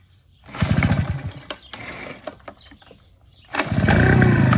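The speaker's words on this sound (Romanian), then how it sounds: "Ați auzit cum motorul a dat să pornească" An O'Mac AT 340 mist blower's small engine being pull-started in a walnut orchard: a short cough and sputter as the cord is yanked, a pause with brief rattles, then a second pull that catches into a loud, steady running roar.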